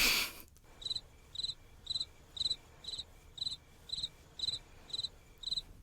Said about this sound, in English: Are the crickets done yet?